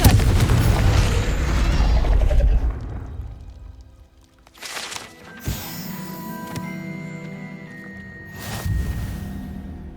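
In the Hogwarts Legacy video game, a Confringo fire spell erupts with a loud, close, rumbling blast that fades over a few seconds. Lighter magical pops, whooshes and shimmering tones follow, then another burst near the end.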